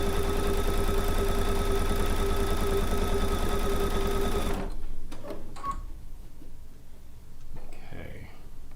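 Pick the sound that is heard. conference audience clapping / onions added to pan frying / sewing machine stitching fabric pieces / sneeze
sewing machine stitching fabric pieces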